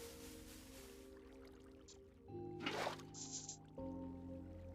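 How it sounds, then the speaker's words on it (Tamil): Water is poured in a video game set in the Nether, a faint splashing, sloshing burst rising briefly midway over quiet, steady background game tones. "ஸோ இந்த தண்ணி ஊற்றினா கரெக்டாக இருக்கும்."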